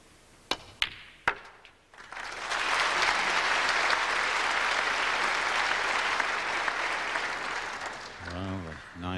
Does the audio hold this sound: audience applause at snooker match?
yes